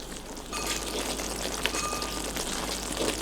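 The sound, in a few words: spice paste frying in hot oil for green fried rice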